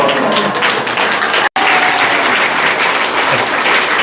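An audience claps loudly and continuously at a free health event, dense applause with a momentary cut before resuming.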